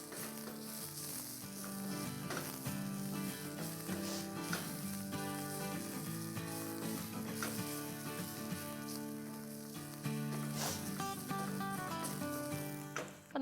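Onion and curry leaves frying in oil in a small pan for a garnish, producing a continuous close crackling sizzle, heard alongside steady background music.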